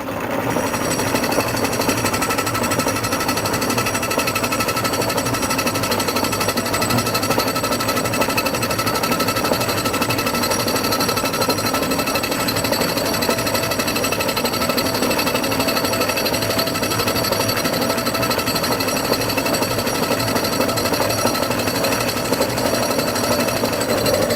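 A lathe runs under power feed in a workshop making theatre props, giving a loud, dense, continuous mechanical rattle and hum that stays steady throughout with no talk.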